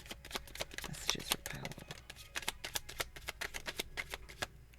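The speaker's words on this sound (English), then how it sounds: "Whoa, that was my shuffling." A deck of cards being shuffled up close, a rapid run of crisp riffling bursts and flicks that go on steadily, with a voice speaking briefly over part of it.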